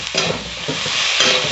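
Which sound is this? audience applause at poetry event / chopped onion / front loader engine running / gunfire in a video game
chopped onion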